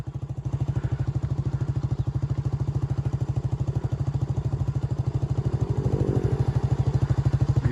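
A Duke motorcycle engine thumps in a rapid, even pulse as it rides off-road toward a river, close and loud, swelling slightly near the end with no talk.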